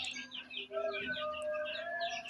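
Many small caged livestock birds chirp and tweet in a steady overlapping chorus, with a few longer tonal calls running through it, moderately close and continuous.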